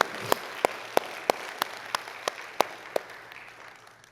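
Scattered applause during a church service, about ten sharp, separate claps at a steady pace, trailing off into quiet.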